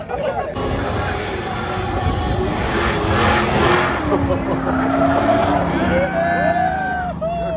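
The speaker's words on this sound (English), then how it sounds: "There's Max Gordon. Spinning around doing donuts." Race car spinning through donuts on a street circuit at the Long Beach Grand Prix, engine roaring and tires squealing with sweeping pitch swoops amid crowd babble and trackside commentary voices, loud and continuous.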